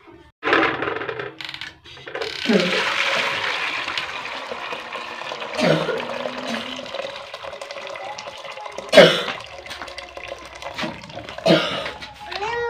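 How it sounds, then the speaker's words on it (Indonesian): Hot water is poured over boiled cincau leaves in a kitchen, with splashing and clattering bursts under intermittent talk, and several louder clanks along the way. "Nah, ini kita tuang airnya ya teman-teman. Kita tuang air panasnya."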